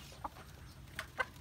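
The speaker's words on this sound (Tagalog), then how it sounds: "Ang katabi niya manok panabong." A fighting rooster gives a few faint, short clucks at a distance, with quiet gaps between the calls.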